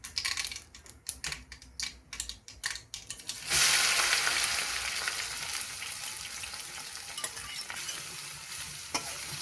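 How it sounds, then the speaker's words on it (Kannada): Okra goes into hot oil with mustard seeds and is stirred in a pan. Sharp scraping clicks come first, then a loud sizzle bursts in and settles into a continuous frying hiss. No one speaks. "ಹಾಕ್ಕೊಂಡು ಚೆನ್ನಾಗಿ ಫ್ರೈ ಮಾಡ್ಕೋಬೇಕು"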